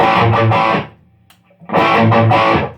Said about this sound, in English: So, real dry, real tight, that's a rock and roll kind of guitar sound